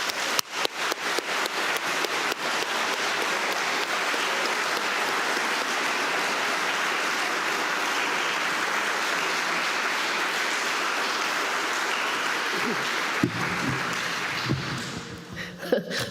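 An audience applauds a speaker arriving at the podium in a lecture hall, a steady, even wash of clapping that runs for the whole stretch and fades near the end as a voice begins.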